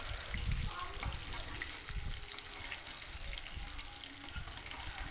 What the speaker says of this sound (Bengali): এইভাবে আমি উল্টে পাল্টে মাছগুলোকে একটু লালচে কালার করেই ভেজে নেব